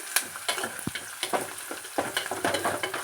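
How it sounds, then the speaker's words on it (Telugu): Turmeric fries with gongura chutney ingredients in a hot pan while a spoon stirs it, giving a continuous sizzle broken by repeated short scraping strokes close to the listener, with no talk. "పసుపు కూడా వేసి వేయించుకోవాలి"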